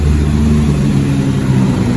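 A Hyundai Porter II double cab dropside with a D4CB diesel engine revs gently in a showroom, a loud, close engine drone with a slight rise and fall in pitch across the short run.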